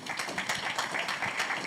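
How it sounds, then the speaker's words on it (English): Audience at an electoral integrity summit in Africa applauding panelists, a dense, continuous patter of many hands clapping at moderate distance, steady throughout with no voices. "Please clap hands for my panelists."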